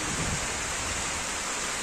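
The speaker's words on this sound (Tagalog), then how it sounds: "Ulan-ulan na dito sa Nepal talaga." Rain falling in Nepal, a dense continuous hiss of drops, brief and fairly soft, with no voices.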